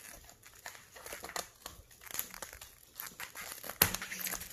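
Crinkling plastic sleeve being cut off a ready-meal package, a string of close, quiet crackles and rustles with one sharper snip near the end.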